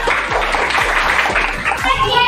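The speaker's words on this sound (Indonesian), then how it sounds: "Tepuk tangan dulu." Children clap together in a classroom, a steady run of close, bright handclaps lasting a couple of seconds, with rhythmic low thumps and some background voices mixed in.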